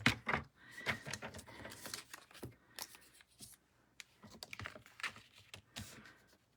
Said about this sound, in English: just putting the white edge of my cardstock right along the cutting groove of my paper trimmer